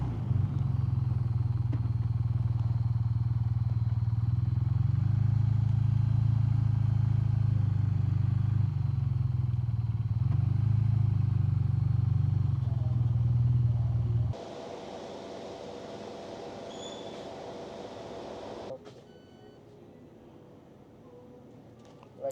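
A BMW R12 nineT motorcycle runs on a steady, loud engine drone under wind noise while riding on fuel reserve, then the rumble drops away abruptly and a quieter stretch follows.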